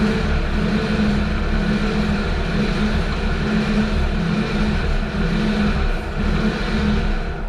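1966 Ford F100 engine, left sitting for 30 years, running steadily with a loud, continuous low rumble and a constant idle hum, close by with no talk over it.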